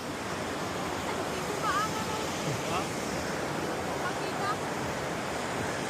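The waterfall at the Forks of the Credit in Caledon, Ontario, gives a steady, broad rushing roar heard from nearby, with faint voices and some wind buffeting the microphone.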